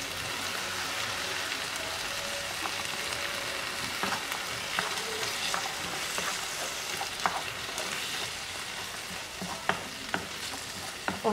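A pizza sauce with salt, spices and thyme sizzles steadily in a pan, a continuous close frying hiss broken by occasional stirring scrapes and small pops.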